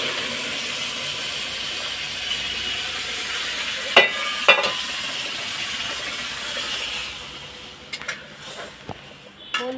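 Water tipped into a pan of fried rice for pulao sizzles loudly and steams, with a few sharp scraping clacks of stirring midway and later, the hiss fading toward the end.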